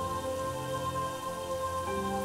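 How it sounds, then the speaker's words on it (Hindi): Heavy rain pours in growing darkness, a steady, even hiss of falling water that continues unbroken, with faint sustained tonal hums running underneath. "हे मेरे ईश्वर, बारिश भी अभी ही करनी थी।"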